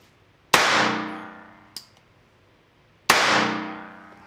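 A Bond Arms Stinger pistol in .22 LR fires two sharp, loud shots a few seconds apart, each with a ringing decay, and a small metallic click between them.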